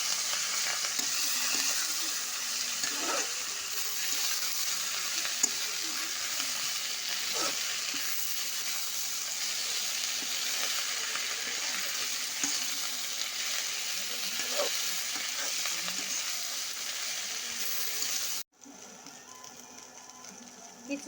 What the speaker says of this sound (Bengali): কিছুক্ষণ নাড়াচাড়া করে নিয়ে ভেজে নিলাম সজনার পাতা আলু দিয়ে ভাজা।